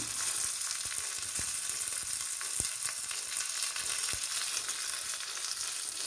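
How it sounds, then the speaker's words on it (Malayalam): Curry leaves crackle and sizzle in hot oil in a steady dense hiss, with a few sharp pops standing out, close and continuous, with no voices. "കറിവേപ്പിലയും കൂടി ഇട്ടേക്കാം."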